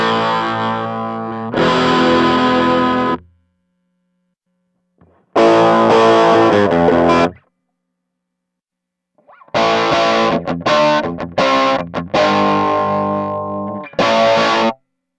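Electric guitar played through a DigiTech CabDryVR cabinet simulator pedal, heavily distorted with chorus-like effects, in three loud bursts of chords and riffs separated by silent gaps, with no talking.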